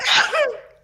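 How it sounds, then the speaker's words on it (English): One close sneeze, a sharp burst that trails off into a fading tail. "Apologies for any coughing and sneezing this evening."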